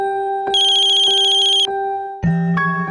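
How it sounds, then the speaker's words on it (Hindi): A phone ringtone plays loud and close, a bright electronic melody repeating in short bursts before a second, different tone sounds, with no one talking over it. "विक्रम, तुम फोन क्यों नहीं उठा रहे हो मेरा?"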